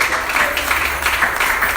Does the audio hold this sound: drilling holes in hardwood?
no